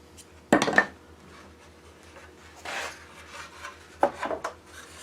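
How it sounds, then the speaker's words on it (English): Sandpaper rubbed on a wooden picture frame in three short, separate bursts of dry rasping, each fading quickly, with a quiet gap between them. "I may just try to sand it."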